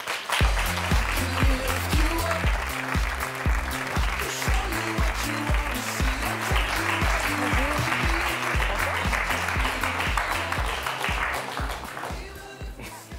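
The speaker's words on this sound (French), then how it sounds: "Merci d'applaudir Cassandre" TV studio audience applause, steady and sustained over rhythmic studio music, continuing for several seconds before fading slightly at the end.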